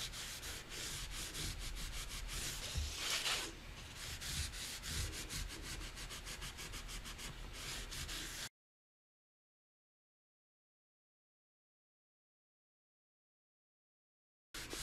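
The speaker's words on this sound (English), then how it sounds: "To just kind of even out that shine and that gloss" Gilding polish is buffed on a watercolor piece with a cloth, making a steady, close rubbing swish for about eight seconds before it falls silent.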